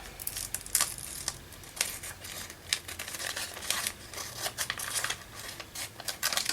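Scissors snipping away excess plastic packaging around a paper craft piece, giving a series of close, crisp cuts with light crinkling in between.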